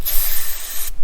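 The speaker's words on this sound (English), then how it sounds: "I gotta throw some more carb cleaner in there and see if it'll run again" A long aerosol burst of carburetor cleaner sprays into the engine of a 1944 Ford tractor, a loud steady hiss lasting about a second before cutting off abruptly.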